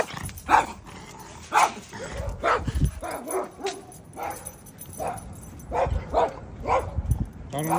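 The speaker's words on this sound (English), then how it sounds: "All the dogs want to bark at us." Several dogs bark at a passing German Shepherd on a leash walk, a string of sharp, fairly close barks and yips at irregular intervals, with a few whimpers mixed in.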